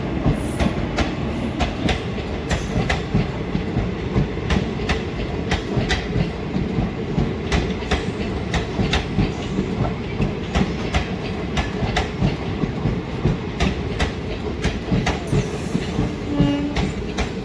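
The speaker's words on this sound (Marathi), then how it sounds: "काय जबरदस्त हॉकिंग सोबत मित्रांनो काचीगुडा एक्सप्रेसची एंट्री होत आहे" Kacheguda Express rolling into Manwat Road station, a loud steady rumble with rapid rhythmic clickety-clack of wheels over rail joints throughout; no distinct horn blast stands out.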